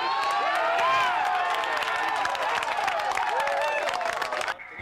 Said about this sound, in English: Michigan highlights were greeted with applause.